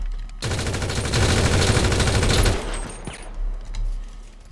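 Rapid automatic gunfire in a video game rattles loudly for about two seconds, then a few scattered shots and thuds follow.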